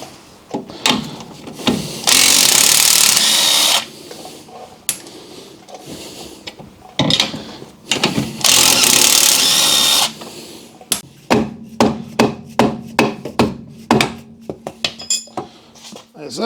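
Big hub bolts are undone on an Audi wheel bearing job with a deep 22 wheel nut socket: two long, loud, harsh whirring bursts, then a string of sharp metallic clicks and taps close by, with no talk.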